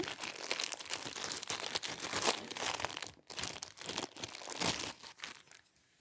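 Close, continuous crinkling of a Kinder Harry Potter foil packet being handled, with irregular crackles and rustles that pause briefly before resuming.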